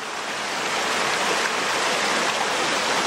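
Gold Mine Creek flowing beneath old bridge abutments, a continuous broadband rush of moving water, steady and fairly loud with no voices over it.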